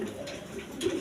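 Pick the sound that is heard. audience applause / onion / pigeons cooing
pigeons cooing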